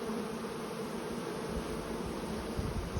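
Honey bees in dense flight around hive colonies working spurge, a continuous close buzzing drone from many insects with no pauses.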